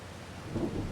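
A low rumble of thunder rolls under steady rain during inclement weather on the Judith Plains, Montana map in Farming Simulator 25. It is a quiet, brief burst that swells slightly toward the end.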